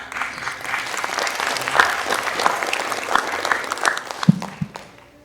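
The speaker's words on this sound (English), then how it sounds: "I just saw my husband clapping over there" Audience clapping at an arts and design discovery series event, a sustained wash of applause that tapers off near the end, with no voices over it.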